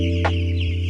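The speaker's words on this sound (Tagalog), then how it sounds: "Maganda ang mga manok." A single short cluck from a chicken stands out over a steady low hum in a farmyard setting.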